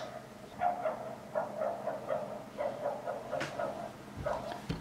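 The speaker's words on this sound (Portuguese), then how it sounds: "assim nos despedimos ao som de um cão a ladrar" A dog barks repeatedly in short bursts at moderate distance, with a steady low hum of background noise throughout.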